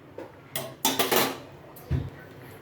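A metal pot of boiled pasta lifted off a home kitchen stove, with a few sharp clanks and scrapes of metal on metal close by, then quiet.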